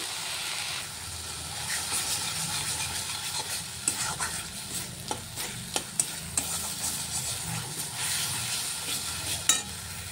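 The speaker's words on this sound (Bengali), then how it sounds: "এখানে আমি মশলাটাকে কষে নিচ্ছি" Spice paste sizzles steadily in a pan as it is sautéed for a bottle gourd fish curry, with a spoon scraping and tapping against the metal every so often.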